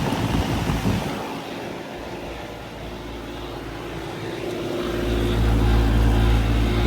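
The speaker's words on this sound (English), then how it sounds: "There's a Gentech fan motor." The Genteq fan motor in a 2015 4-ton Carrier Comfort heat pump runs with a continuous droning whir that sounds unhealthy. The drone swells louder toward the end, with no talking.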